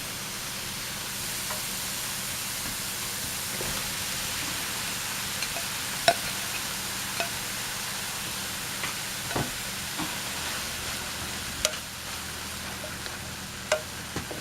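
Cooked Thrive ground beef stirred in a pan, a faint steady sizzle with soft scraping and a few light clicks of the utensil against the pan, quiet and without voices.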